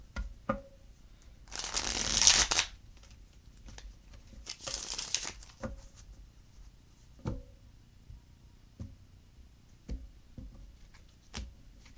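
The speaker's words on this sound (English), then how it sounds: "One more shuffle." Tarot cards being shuffled by hand: two brief riffling bursts near the start, followed by a series of soft isolated taps and clicks of cards being set down, close and quiet.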